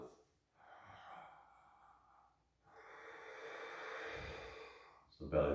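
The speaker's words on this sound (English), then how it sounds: "deep, full belly breathing, in for 5 seconds, out for 5 seconds" Deep, full belly breaths drawn in and pushed out through the mouth during a gentle morning breathwork session, slow and close, two long airy phases with a brief pause between and a louder burst at the end.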